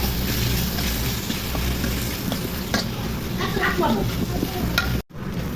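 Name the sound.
ginger garlic paste frying in pan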